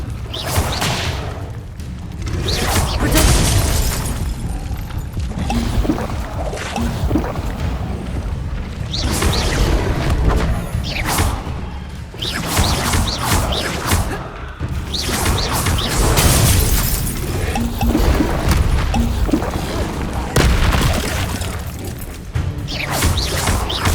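Spell combat from Hogwarts Legacy, with the Incendio fire spell cast repeatedly: dense, loud whooshing blasts, booming impacts and crashing effects follow one another without a break, all game sound and no talk.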